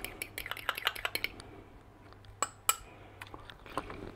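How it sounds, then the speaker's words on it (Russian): Raw egg with a pinch of salt is whisked in a bowl, giving quick, light clinking taps of utensil against the bowl in a fast irregular run, then a pause and a few louder, sharper clinks, close and fairly quiet. "Взбиваю."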